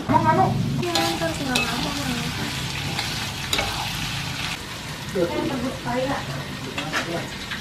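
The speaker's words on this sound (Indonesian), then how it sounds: "Tumis bumbunya. Masukin deh jengkolnya yang udah digoreng." Fried jengkol being stir-fried with spice paste in a pan, a steady sizzle and frying hiss with scraping stirs, while voices talk over it at several points.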